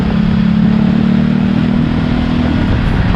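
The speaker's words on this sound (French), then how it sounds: "Voilà, la moto est assez bruyante." A 2020 Ducati Multistrada 1260 S Grand Tour motorcycle engine running loud and close, a steady throbbing rumble without a break.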